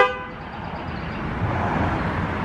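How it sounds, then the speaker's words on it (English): A Chevrolet Astro van horn gives a short honk at the very start, then fades into steady outdoor road and engine noise. "Then I went to honk the horn."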